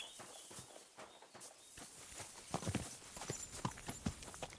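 Horse hooves clip-clop at a steady walking pace in the video game Kingdom Come: Deliverance II, close and fairly clear, with faint background ambience.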